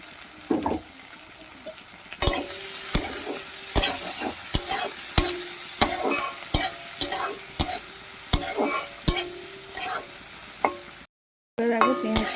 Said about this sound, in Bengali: লাল লাল করে ভাজা হয়ে আসছে